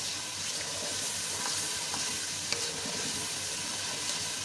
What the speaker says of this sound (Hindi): अब इन मसालों के साथ हमें 2 से 3 मिनट तक अच्छे से इसको भूनना है